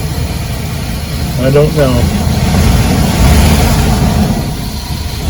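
A 2007 Chevy Express van engine idling steadily with a low, even rumble, close by, while someone speaks over it briefly.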